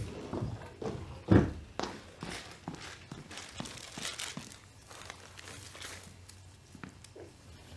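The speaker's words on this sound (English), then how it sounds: "write down your compliment, fold it in half." A paper note is folded in half with close, crisp crinkles and creases, one sharper crunch standing out among the softer rustles.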